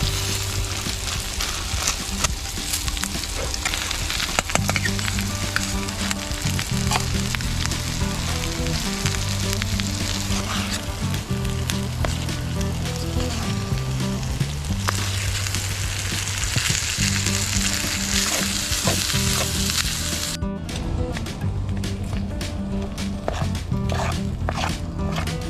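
Rice frying at a camp cookout crackles and sizzles in a pan, a constant close hiss with low bubbling underneath that carries on for the whole stretch without any speech.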